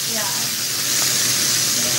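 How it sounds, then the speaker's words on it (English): Country fried steak sizzles steadily in a hot pan, a close, continuous hissing crackle with faint voices in the background. "this thing's frying nice"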